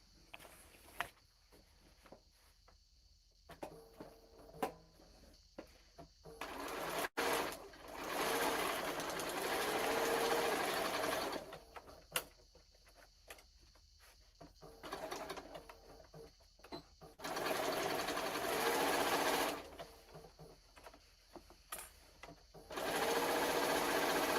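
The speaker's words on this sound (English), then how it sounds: "I'm also asking my machine to sew through several layers." A sewing machine stitches through several layers of canvas for a tote bag, running in three loud, steady bursts of several seconds each, separated by quieter pauses with light handling noises and faint birds cooing outside.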